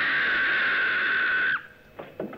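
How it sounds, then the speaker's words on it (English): A long, sustained high-pitched scream from a 1960 horror film holds steady for about a second and a half, then breaks off abruptly, followed by a couple of faint, brief rustling sounds. "That was a scream."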